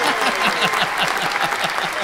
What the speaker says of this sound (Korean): 그동안 고생하셨다는 박수!